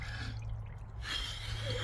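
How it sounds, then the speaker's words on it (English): Cold 34-degree water in an ice bath sloshing and dripping as someone climbs in, with a sharp splashy burst partway through and a soft breath or gasp, close and fairly quiet. "Getting into a bath,"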